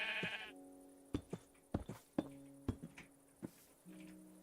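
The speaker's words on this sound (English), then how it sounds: "Hello, sheep." Sheep in a video game bleat in a few distinct calls, with short thumps and clicks of game play between them, fairly clear and alone.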